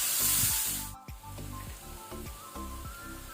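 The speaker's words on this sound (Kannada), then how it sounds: "ಈಗ ಇದನ್ನು ಒಳ್ಳೆ ರೀತಿ ಫ್ರೈ ಮಾಡ್ಕೊಳ್ಳುವ" Ridge gourd and chickpeas frying in a pan, a bright hiss at the start then steady sizzling with rhythmic scraping and stirring clatters, close and continuous.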